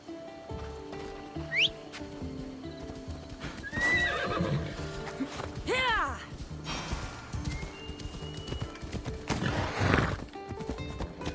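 A horse in Assassin's Creed Odyssey clip-clops along and gives a couple of sharp whinnies and neighs, set against ambient game sound and occasional voices.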